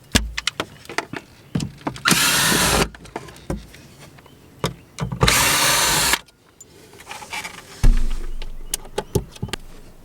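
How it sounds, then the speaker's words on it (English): A power screwdriver backs screws out of the front panel of an RV, giving two sustained whirring bursts of a few seconds each, separated by clicks, handling knocks and short taps, close and fairly loud. "I'm going to remove 4 screws and take this panel right here off"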